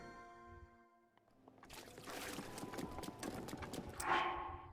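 Horse hooves in The Legend of Zelda: Breath of the Wild clip-clop in a quick, steady trot, starting after a short stretch of fading tones and growing louder toward the end.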